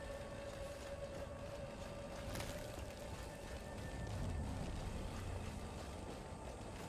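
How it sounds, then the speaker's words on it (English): Tractor engine in the video game Satisfactory, a steady low rumble with a faint high whine, continuous and fairly quiet throughout, driven across terrain with no talking. "Now we can drive along here with the tractor."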